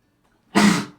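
A single short, loud sneeze bursts out close by after a moment of near silence.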